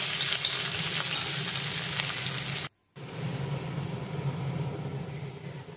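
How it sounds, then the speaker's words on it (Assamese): Food sizzles and crackles continuously in a hot pan, with stirring scrapes; the sound drops out briefly midway, then the frying resumes more softly. "এইখিনি এতিয়া ভালদৰে ৰঙচুৱাকৈ ভাজি ল'ম।"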